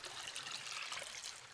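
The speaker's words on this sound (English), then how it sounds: "Now you want to run a lot of water through this thing at first." Water runs through a cut-off plastic gallon jug outdoors, a steady close hiss and trickle that stays constant and alone throughout.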